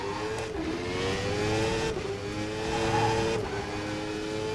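Simulated car engine revving in a racing video game driven with a racing wheel, a steady, sustained engine drone with rising and falling pitch, heavy on throttle, playing alone without talk.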